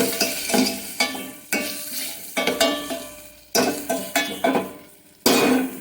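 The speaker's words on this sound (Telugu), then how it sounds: "ఇది వేసేసి ఒకసారి కలుపుకోండి" A spoon stirs and scrapes ingredients in a cooking pan with about a dozen quick, close strokes in an uneven rhythm, each a sharp scrape fading into a soft sizzle.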